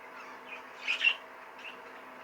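A Fife canary calls in a shed, giving a few faint, brief chirps near the middle against a quiet steady background hum.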